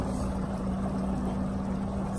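A Skeeter bass boat's four-stroke outboard motor hums steadily on a lake, a low, even drone with a faint whine, continuous and fairly close for the brief stretch.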